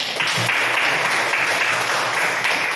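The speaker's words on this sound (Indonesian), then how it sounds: "kita berikan aplaus dulu" A classroom of students applauds, steady brisk clapping from many hands filling the room at close range, holding an even level for a few seconds.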